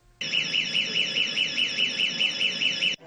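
An emergency bell alarm sounds a loud, continuous warbling electronic tone for about three seconds, then cuts off abruptly.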